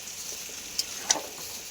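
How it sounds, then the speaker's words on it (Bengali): Spinach with stalks, potato and flat beans cooking in a pan with a black cumin tempering gives a faint, steady sizzling hiss with two small pops, close by and quiet. "কালো জিরে ফোড়ন দিয়ে একটু আলু ছিম দিয়ে বসিয়েছি শীষওয়ালা পালং শাক"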